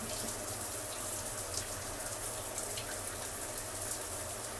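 Steady running water from a tap rinses a section of curly hair during a wash, a continuous broadband splashing hiss with no talk over it.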